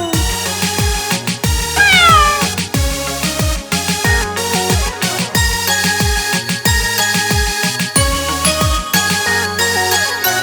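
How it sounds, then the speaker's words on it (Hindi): A cat's meow is repeated through a Hindi children's rhyme, set among bright, rhythmic backing music with a steady beat that plays loudly throughout. "बिल्ली करती म्याऊ म्याऊ"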